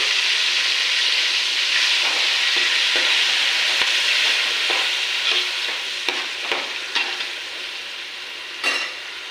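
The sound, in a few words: onion paste frying and being stirred in pan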